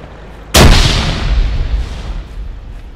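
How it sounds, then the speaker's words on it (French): Grenade exploding in the military shooter game Arma 3, one sudden loud boom with a deep rumbling tail that fades over about two seconds, heard alone without speech. "je lance des grenades mais..."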